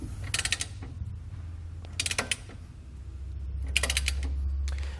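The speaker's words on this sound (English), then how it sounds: "we want to come back and torque all of our hardware down to the specified amount in the instructions" A ratchet wrench clicks in three short bursts while bolts on the nerf bar hardware of a 2019 Chevrolet Silverado 1500 are tightened. A low hum runs underneath throughout.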